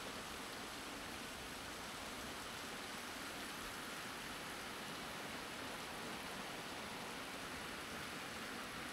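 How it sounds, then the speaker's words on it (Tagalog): Heavy rain pours down outside during a flooding storm, a steady, dense hiss of broadband noise that continues unbroken and evenly loud from start to finish. "Lakas ng ulan."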